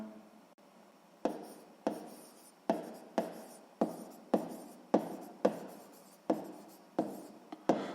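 A pen writes on paper during sixth-grade maths homework. It makes about a dozen short, crisp scratching strokes in a steady rhythm, close to the microphone and heard alone with no talking.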